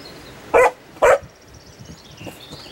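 A dog gives two sharp, loud barks in quick succession, close by, followed by quiet.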